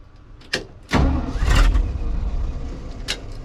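A Ford F600 truck engine cranks and catches with no throttle, a short click and crank burst followed by a loud rough roar that settles into a steady close idle, with no talking.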